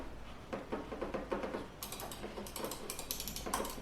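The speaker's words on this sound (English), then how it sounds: "the clicks, they feel nice, and they are sort of loud, not too loud." Rapid, crisp clicks from a Razer Viper Ultimate gaming mouse tap in quick bursts, fairly loud and close, with no talking.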